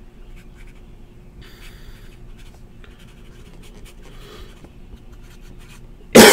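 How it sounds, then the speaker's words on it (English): Pen writing on paper, a soft scratchy stroke with intermittent bursts of scribbling, faint and close, over a low background hum; a louder thump comes at the very end. "Write it down."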